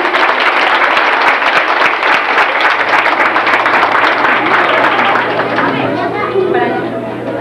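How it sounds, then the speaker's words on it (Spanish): Loud, close crowd applause at a village cultural festival in Nayarit, Mexico, dense and rhythmic at first, then thinning into scattered claps and chatter as voices and a low hum come through. "el aplauso fuerte de todos los asistentes"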